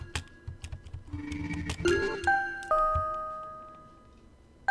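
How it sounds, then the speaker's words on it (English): A doorbell ringing in The Silver Case game, a series of chime tones that ring out and sustain and decay one after another, layered over quick ticking and tapping clicks, fairly close with no talk. "I can't speed the progress of me ringing the doorbell at all"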